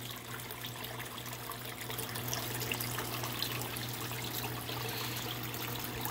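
Water trickles steadily over a waterfall in an aquarium tank, a continuous soft splashing wash with a faint low pump hum beneath it, close and even throughout.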